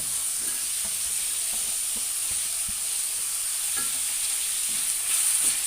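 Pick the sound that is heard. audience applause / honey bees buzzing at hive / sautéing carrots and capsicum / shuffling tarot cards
sautéing carrots and capsicum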